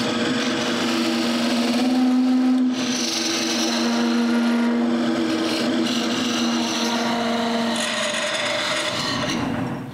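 A wood lathe spins a wooden tool handle as it is cut off, giving a steady close rasping, scraping whir with a sustained hum under it, continuous for the whole stretch.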